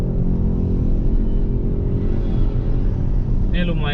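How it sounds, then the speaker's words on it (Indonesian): Busy central Jakarta street traffic dominated by motorcycles, a loud, constant engine drone and road rumble heard up close, with a brief higher whine near the end. "Lebih banyak motor sih dibandingkan mobil."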